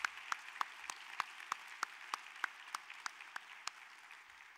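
Applause for the International Women's Media Foundation, sparse and faint, about fourteen separate claps in a steady rhythm, as if from one or a few people at a distance.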